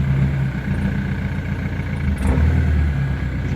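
A Ford Mondeo ST under rebuild runs nearby, its engine giving a steady close rumble with a slight rise in revs partway through.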